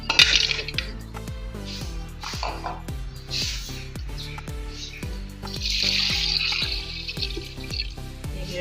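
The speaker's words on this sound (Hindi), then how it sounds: "पानी डाल दिया।" Water poured into a pressure cooker while cooking duck curry: a steady splashing, gurgling stream with repeated metallic ringing knocks, close and fairly loud, running continuously with no speech.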